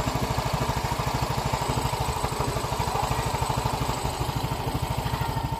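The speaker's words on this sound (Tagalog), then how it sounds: "Ito na natin pakinggan ulit yung makina." A Yamaha Mio i 125 scooter engine, freshly overhauled, idles steadily nearby, its even putter repeating in a quick, regular rhythm with no voices.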